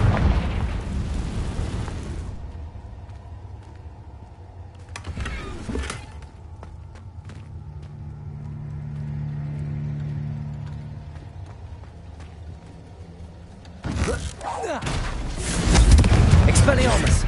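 Explosions from the Confringo blasting spell in a Hogwarts video game: a loud burst at the start, another around six seconds, and a heavy blast near the end, separated by a low humming lull.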